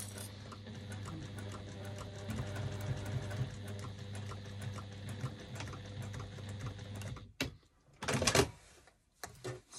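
A sewing machine stitching white thread into fabric runs steadily with a fast, even mechanical chatter, then stops and gives way to a few brief handling clicks and rustles.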